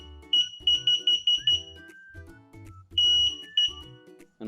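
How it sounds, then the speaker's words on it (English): An electric unicycle emits a series of high electronic beeps during calibration, six quick ones in a row, then a pause with softer tones and two more beeps, close and clear with no voices. "The wheel will beep a few times."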